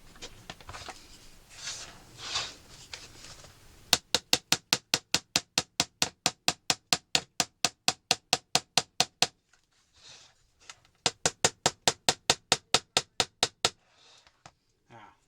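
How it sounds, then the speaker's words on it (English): A small hammer taps pins into the bellows of a Hohner Liliput accordion: rapid, sharp metallic taps in two long regular runs, close and crisp, with a pause between; softer handling noise comes before them. "what I'm going to need is just a little careful tappy hammer"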